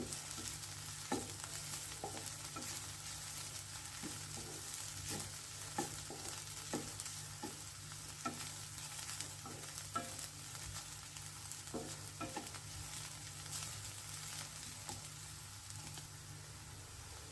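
Cluster beans fry in a pan, a steady soft sizzle broken by repeated light scraping stirs at an uneven rhythm, close and fairly quiet with no talking.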